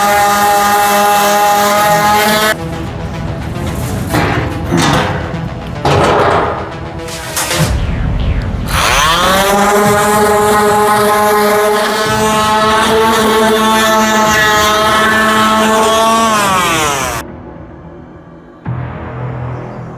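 A motorized sander with 80-grit paper scuffs a steel floor pan panel for a 1969 VW Bus, a loud, steady whining drone broken by several brief stops and restarts before it winds down near the end.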